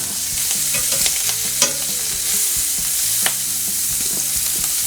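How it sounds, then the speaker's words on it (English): Shrimp with Cajun seasoning sizzle and fry steadily in a hot pan, with scraping and clinking as they are flipped and stirred, constant close crackle with no talking. "Give these a flip."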